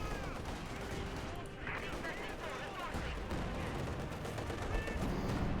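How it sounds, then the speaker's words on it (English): Panther tank cannon fire in Company of Heroes 2 sounds within a steady wash of battle noise, with dense gunfire and explosions rumbling continuously. "South East Panther firing away there"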